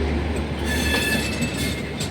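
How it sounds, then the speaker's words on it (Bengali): A Vistadome passenger train rolls past up close near Jhalukbari, Guwahati, with a loud, dense rumble of wheels on track and a thin metallic squeal riding over it. "vistadome এখন যাচ্ছে"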